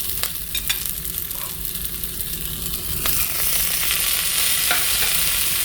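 Onion, capsicum and tomato sautéing in a pan, giving a steady close sizzle with occasional stirring clicks that grows a little louder partway through.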